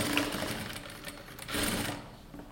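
Sewing machine stitching an elastic waistband, a steady close whirring run with a slight surge partway through before it eases off at the end, no voices.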